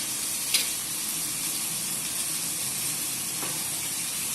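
Dried fish sautés in a pan for kuzhambu, a steady close sizzle and hiss of frying with a couple of faint stirring taps and no talk.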